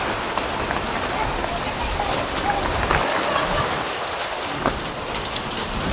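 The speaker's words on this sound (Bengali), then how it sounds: "প্রচণ্ড দেখো কত বড় বড় শিলা পড়ছে।" Large hailstones pelt down in a heavy hailstorm, a dense, unbroken drumming roar with scattered sharper impacts, and a faint voice at times beneath it.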